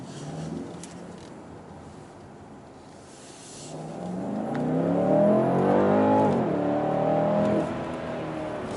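A 2019 BMW M850i Coupe engine on a test drive, starting as a low hum, then swelling into a loud, rising rev with audible gear shifts, and settling back to a steady drone, heard from inside the car.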